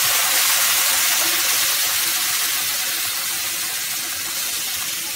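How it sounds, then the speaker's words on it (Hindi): Hot water pours steadily into a pan of semolina while making suji upma, a continuous rushing, hissing gush close by that holds level for about five seconds with no talk. "देखिए मैं 3 कप पानी डालूंगी"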